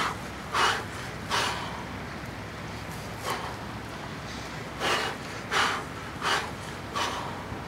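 Forceful, controlled breaths come during kettlebell training: about eight sharp exhales and sniffs in an uneven rhythm, close to the microphone over a steady background hiss.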